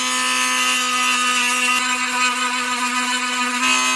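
A Dremel rotary tool whines steadily while polishing a gun trigger spring, a loud high-pitched continuous spin with slight dips in pitch as it bears against the metal.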